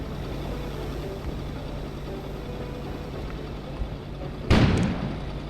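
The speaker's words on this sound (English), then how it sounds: "An explosion suddenly occurred outside." A single deep boom sound effect for an explosion in an audio story with a snowstorm setting, striking near the end over steady low background rumble, brief and fairly loud, no voices.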